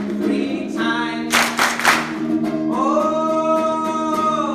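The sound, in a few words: audience clapping hands three times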